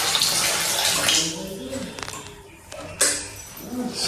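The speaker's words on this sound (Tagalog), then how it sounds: "tingnan natin dito sa may shower kung makaakyat ba yung tubig" Shower water running in a house bathroom, a steady near hiss of spray that fills the clip with one brief louder surge partway through.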